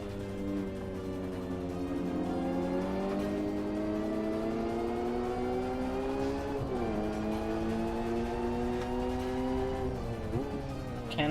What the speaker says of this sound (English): Can-Am McLaren's fierce though. Just raw, naturally aspirated V8 power.